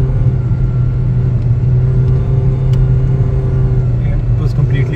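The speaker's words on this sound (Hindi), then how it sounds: "यहाँ पर मैं गाड़ी को 60 से ऊपर टर्न लेने की कोशिश कर रहा हूँ" A Toyota Belta takes a sharp turn at over 60 on a road trip to Murree. A loud, steady engine and road rumble drones close-up from inside the car throughout.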